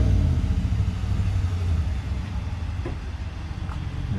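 A 2019 Ram 1500 pickup with its muffler deleted rumbles loudly and steadily while driving, a deep low exhaust drone that carries throughout without any talk.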